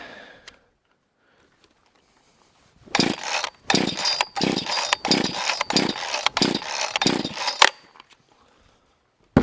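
A cheap Amazon chainsaw's small two-stroke engine fires up and runs in rough bursts for about five seconds, revving and dropping in rapid pulses, loud and close, before cutting out to silence.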